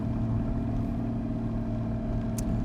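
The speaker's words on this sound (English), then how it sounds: "this isn't from a cold start, but still sounds and feels grunty and sporty" A warm Porsche 981 Cayman S with a 3.4 flat-six idling, a steady, loud, close low rumble with a constant even hum and no change in pitch.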